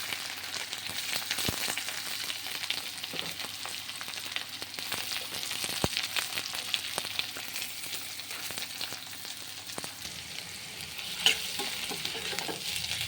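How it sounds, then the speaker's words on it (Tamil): Whole spices tempering in hot oil, sizzling and crackling steadily throughout with scattered pops and occasional stirring scrapes, close up and without any talking. "எண்ணெய் காஞ்சிருச்சு. இதெல்லாம் போட்டு தாளிப்புக்கு போட்டுட்டு"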